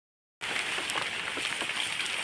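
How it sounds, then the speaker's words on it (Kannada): Rain falls in a steady, soft hiss of many drops that begins suddenly after a brief silence and continues evenly at a moderate distance, with no voices. "ನಾನು ವ್ಲಾಗ್ ಸ್ಟಾರ್ಟ್ ಮಾಡುವಾಗಲೇ ಮಳೆ ಬರ್ತಾ ಉಂಟು."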